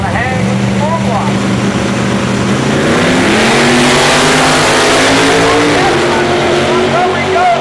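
Loud, steady roar of small-block drag racing cars in a single-kit X275 class at MIR launching down the strip, engine tones climbing, with a commentator talking over it.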